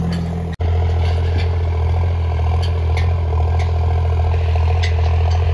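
A tractor pulling an 18-disc harrow through a field runs with a steady, loud, low engine drone and rhythmic clatter, heard alone after a brief dropout at the start.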